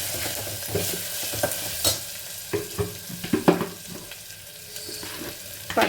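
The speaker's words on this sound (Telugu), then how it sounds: "అల్లం వెల్లుల్లి పేస్ట్ అది కొంచెం ఫ్రై అయిన తర్వాత" Ginger garlic paste fries in a pan, a soft sizzle under irregular stirring scrapes and clinks of a spoon against the metal, close and moderately loud, with no talking.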